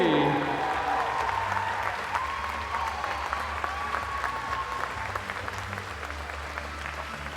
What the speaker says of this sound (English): let's hear you cheer, ladies and gentlemen, for lane 3